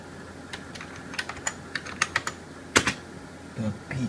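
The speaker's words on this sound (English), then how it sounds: "PTC Dome Packard Bell keyboard, as you can hear." Keys tap in a quick uneven run on a soft-sounding Packard Bell rubber dome computer keyboard, close by, with dull muted strokes and a brief low noise at the end.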